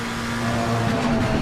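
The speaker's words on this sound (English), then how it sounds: "I've got to say, I do love the down change in the McLaren" McLaren GT3 race car in Assetto Corsa Competizione, a loud steady engine drone with a brief shift in pitch as it changes down a gear.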